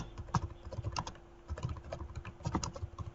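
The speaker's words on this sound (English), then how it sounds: "So I will go to and type in University Circle." Keys on a computer keyboard clatter in quick irregular bursts with short pauses, close and fairly quiet, no voices over the tapping.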